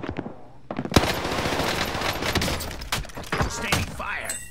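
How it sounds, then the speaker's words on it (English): Dense, continuous automatic gunfire in a Rebirth Island video game match, rapid bursts and heavy shots layered with thuds and impacts, loud and sustained throughout with occasional voices mixed in. "Sustaining fire."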